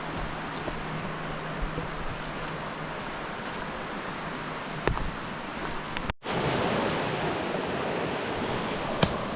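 The Yadkin River flows beside the Bean Shoals hiking trail with a constant, full rush of water close by. A short dip interrupts it partway through, then the steady flow returns.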